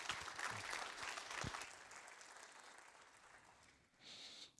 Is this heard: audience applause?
yes